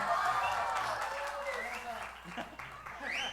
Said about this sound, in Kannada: ಶಬಾಷ್, ಹೊಡಿಬೇಕು ಚಪ್ಪಾಳೆ.